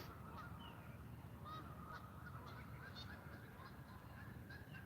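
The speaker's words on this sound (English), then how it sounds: "Ooh, we got a goose fight." Geese honking and squabbling by fishing bait at a waterside, repeated nasal honks at a middle distance over a steady low background rumble, fairly faint, with no talk.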